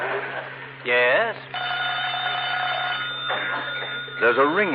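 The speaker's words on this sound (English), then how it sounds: "Oh, that's the phone" Telephone bell ringing as a radio drama sound effect, a sustained electric ring broken into bursts, with voices talking between and over the rings.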